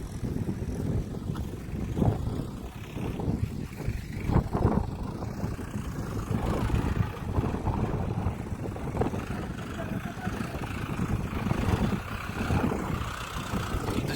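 A tractor engine runs steadily while a field is sown, a continuous low rumbling drone with slight surges, fairly close and unbroken throughout, with no talk over it.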